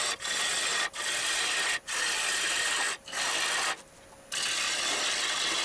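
A gouge cuts wood on a spinning lathe while turning the rim of a live-edge crotch piece. The close, steady rasping scrape pauses briefly four times, with a longer break near the end.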